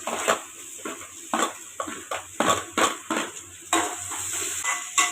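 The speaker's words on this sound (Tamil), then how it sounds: "கேரட்டு கொஞ்சம் வதக்கிட்டு" Carrots and onions are sautéed for rava kichadi, a spatula scraping and tossing them in a pan in quick, repeated strokes close by, over a faint steady hiss.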